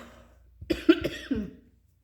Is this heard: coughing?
yes